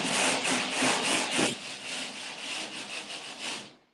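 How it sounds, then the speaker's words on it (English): A hand rasp files and smooths the edge of a drywall panel. It gives soft, rhythmic scraping strokes, quick and repeated at first, then a steadier rough rubbing that fades out at the end. The sound is fairly quiet and close, with no voices. "And the rasp is a wonderful tool."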